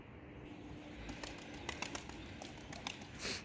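A young tumbler pigeon lands on a rooftop during an early flight lesson, with a few soft wing flaps and light rustles over quiet outdoor background, ending in a brief louder flurry of wingbeats.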